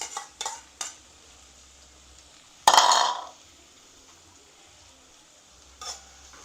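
Lobster sautéing in a pan, with brief stirring clinks and taps, then a sudden loud burst of sizzle that fades over a second, and a few more utensil knocks later.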